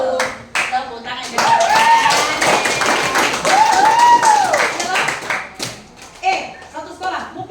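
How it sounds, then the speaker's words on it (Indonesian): Students at a school outreach session in an Indonesian junior high clap together in a burst of group applause, loud and sustained, with whistle-like calls and voices over it, then tapering into scattered claps. "Tepuk tangan."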